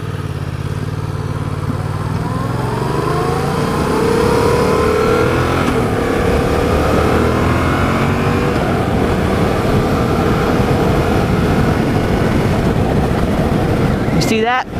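A manual car's engine rises steadily in pitch as the driver adds a little gas and eases off the clutch on an incline. The engine note is close and continuous, with a voice talking over much of it.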